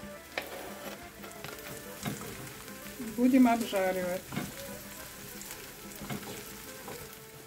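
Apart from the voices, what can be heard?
carrots frying in a pan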